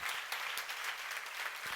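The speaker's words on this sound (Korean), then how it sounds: "박수로 하나 주세요." Congregation applause during a church seminar sermon, a short burst of steady, even clapping from a gathered crowd, fairly faint and distant.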